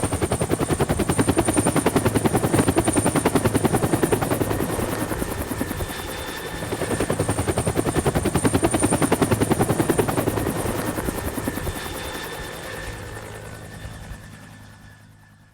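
Loud, steady whump of helicopter rotor blades close by, a continuous chopping drone that dips briefly midway and then fades out toward the end.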